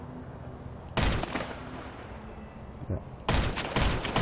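Two loud bursts of gunshots in GTA 5 Online break through a quiet background, one early and one near the end, with a player's brief voice heard between them.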